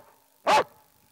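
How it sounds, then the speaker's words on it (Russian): A guard dog gives a single loud, sharp bark, close by and alone, with near silence before and after. "Его лай лучше любой сигнализации."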